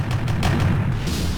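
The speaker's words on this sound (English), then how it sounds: "That is a lot of explosions." Explosions in the War of K video game: a loud, rumbling barrage of booms layered into a continuous, heavy low roar with periodic bursts throughout the short stretch.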